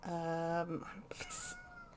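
A house cat gives a long, clear meow close by, followed by a shorter, fainter second call.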